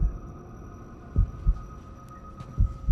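A heartbeat sound effect from Marvel's Daredevil thumps low and muffled in paired beats, repeating steadily over a constant electronic hum.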